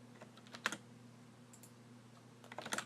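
Computer keyboard typing with backspace presses, a few quiet close clicks in short bursts separated by pauses, set over a low steady hum.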